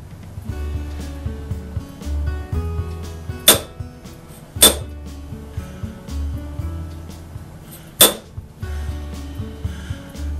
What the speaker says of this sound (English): Take the center punch,